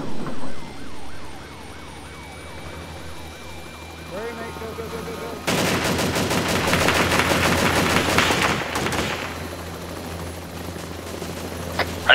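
Bursts of gunfire in a shooting game, rapid broadband cracks swelling loud from about midway and thinning toward the end, over a steady background hum with a siren-like wail and scattered voices.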